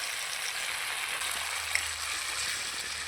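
Grated tomato fries in a pan with green chilli, giving a steady, even sizzle that stays close and constant with no talk.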